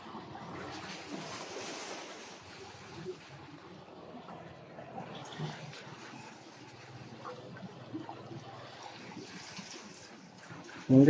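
Sea waves wash against a rock formation in soft, rolling surges, with a gentle hiss that swells and fades over and over, joined by faint wind and a sharp bump at the very end.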